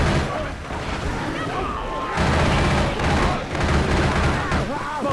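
Rapid gunfire and sustained bursts of shooting in Left 4 Dead 2 gameplay on Xbox One, loud and dense throughout with a brief lull midway, mixed with game ambience and character voices.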